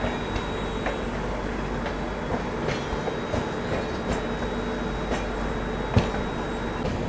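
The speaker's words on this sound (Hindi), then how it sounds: "शताब्दी राजधानी 2 हाई प्रायोरिटी गाड़ियाँ एक साथ कानपुर सेंट्रल से डिपार्ट हो रही हैं।" Shatabdi and Shatabdi-adjacent Rajdhani express trains pulling out of Kanpur Central side by side, a broad steady rumble of rolling coaches with faint clicks of wheels over rail joints and one sharper clank near the end.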